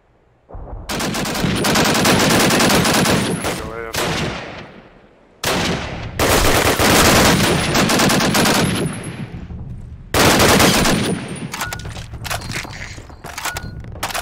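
Sustained automatic machine gun bursts in Call of Duty 1 during a 5v5 Search and Destroy competitive match, loud and close, in three long stretches with brief lulls between.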